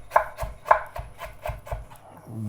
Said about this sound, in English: and chop it up